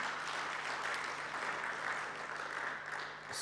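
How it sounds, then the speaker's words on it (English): Faint, steady audience applause rolls on at a partnership agreement signing ceremony, an even wash of clapping heard from a distance with no break. "Round of applause, ladies and gentlemen."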